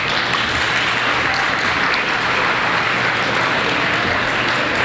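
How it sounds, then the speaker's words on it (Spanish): An audience applauds continuously, dense steady clapping from many hands filling the whole stretch at full volume. "Un aplauso para el general."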